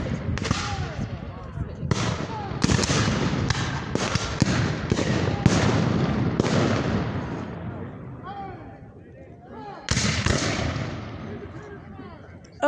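Blank-firing guns at a country gun show crack in a rapid series of sharp bangs across the first half, a lull, then another burst of shots, with people talking and reacting throughout.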